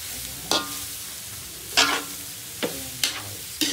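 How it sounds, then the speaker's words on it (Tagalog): Santol being stirred in coconut milk in a pot: five distinct scraping and clacking strokes of the spoon at irregular intervals over a low simmering hiss, close up, with no talking. "haluin lang natin siya"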